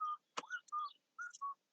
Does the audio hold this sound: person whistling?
yes